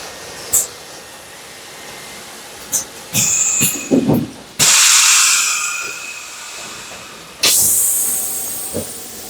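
Hydraulic press in a solar module factory squeezing an aluminium frame onto a panel, with loud bursts of hissing air and pneumatic release, a few mechanical clicks between them, amid steady factory background.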